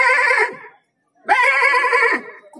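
A voice imitates a goat bleating in two drawn-out, quavering cries, the second longer, separated by a brief silence and heard close and loud.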